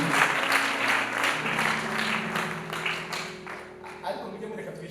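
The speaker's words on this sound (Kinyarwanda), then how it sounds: "mureke tubakomere amashyi tubashimire" An audience at a wedding claps steadily for several seconds, a dense sustained round of applause with voices mingled in, easing slightly toward the end.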